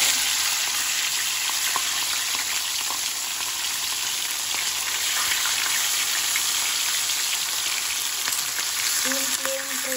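Fish frying in hot cooking oil already used for chicken, a steady close hiss and crackle of sizzling that runs without a break and stays even in loudness throughout.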